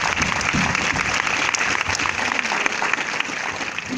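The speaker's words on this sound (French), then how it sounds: "On peut applaudir Lionel Sikiti" Audience applause for director Lionel Sikiti at an Alad'2 premiere screening in Maubeuge, steady dense clapping filling the hall throughout, loud and sustained without a break.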